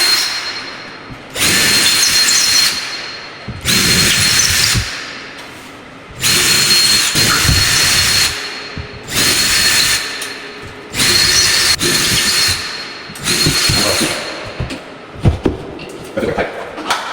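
A power drill installs ceiling brackets for a Jilron room divider track, running in six or seven loud bursts of a couple of seconds each with short pauses between, close by.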